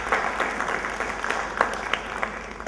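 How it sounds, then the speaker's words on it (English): Audience applause during a valedictory speech, a sustained even roll of many hands clapping at moderate distance, steady from start to finish with no voices on top. "Big round of applause for him."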